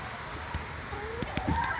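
Chickens kept in a converted garage coop give soft, scattered clucks and a few brief calls over steady indoor background noise, with no talk.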